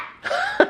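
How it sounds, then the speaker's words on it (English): Single short, harsh cough made right into a microphone, close and loud, alone without talk. "Please don't cough into the microphone."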